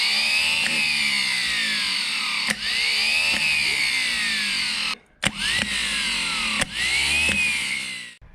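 A rebuilt starter motor for a 1965 Toyota FJ45 with an F135 engine whirs loudly in repeated bursts, each rising in pitch, separated by short clicks and brief pauses.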